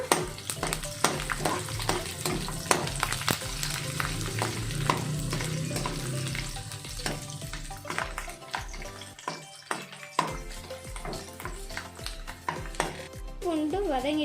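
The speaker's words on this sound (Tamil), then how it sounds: "நம்ம உளுந்து வதக்கின எண்ணெயிலேயே நீங்கள் இஞ்சி பூண்டு போட்டுக்கோங்க. இப்போ நல்லா கிளறி விட்டுக்கலாம்." Ginger and garlic fry in the oil left from sautéing urad dal, for a curry leaves thokku, crackling and sizzling loudly as a spoon stirs and scrapes the pan in quick repeated strokes.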